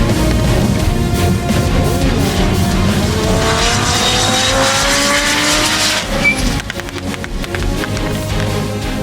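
Rally cars race flat out on a forest stage, among them an Audi chasing a Mitsubishi Lancer Evo. A loud engine revs and climbs through the gears close by, with a brief tyre squeal, then fades as the car pulls away.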